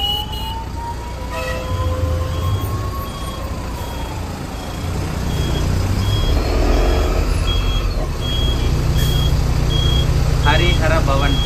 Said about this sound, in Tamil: டிராஃபிக் மட்டும் எவ்வளோ இருக்குன்னு பாருங்க, சரியான டிராஃபிக்.